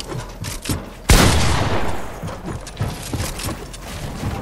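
A hunting rifle in Fortnite fires one loud, close, sharp shot whose echo trails away, surrounded by quieter distant gunfire and scattered footsteps.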